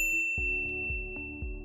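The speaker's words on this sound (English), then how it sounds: "ring the bell to be notified about our latest videos" A short notification sound effect repeats a bright ding several times in quick succession, each strike ringing with a sustained metallic tone, clean and alone with no talking.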